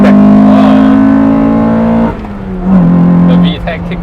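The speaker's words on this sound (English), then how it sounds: "the VTEC kicked in" A Honda Civic Type R EK9 engine roars loudly as VTEC engages, a strong sustained high-rpm howl that drops sharply at a gear change, then climbs again, with people talking inside the car.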